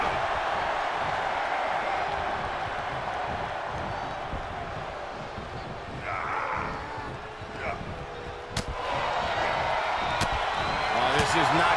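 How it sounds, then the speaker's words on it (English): A wrestling arena crowd roars in a dense, continuous wall of cheering and noise, with occasional sharp bangs, while a commentator talks over it throughout. "The sound of this crowd is deafening, and he's asking for more."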